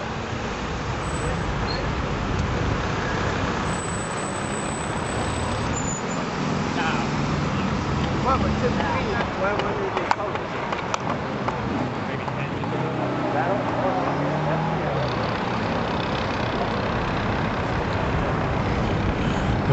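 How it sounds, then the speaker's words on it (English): Dense morning traffic jammed on the roadway beside the new 35W bridge, a steady broadband roar of many idling and crawling vehicles, loud and continuous throughout with no clear gaps. "So today you're seeing the last day of this traffic jam."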